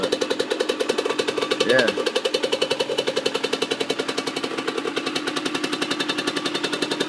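A motorbike engine runs close by, its rapid steady pulsing firing loud and constant throughout, with a brief spoken word partway in.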